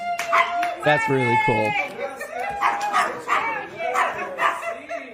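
An excited dog lets out a quick run of yipping, high-pitched barks close by, with whimpery whines mixed in, as people talk and laugh around it.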